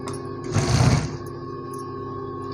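A sewing machine stitches blouse fabric in a short, fast whirring burst of about half a second, then falls back to a faint hum.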